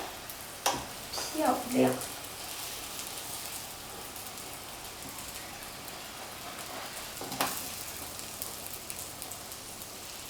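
A Chinese chive pocket sizzles while pan-frying in oil, with a few clattering knocks as it is flipped, then a steady soft crackle; a voice speaks briefly.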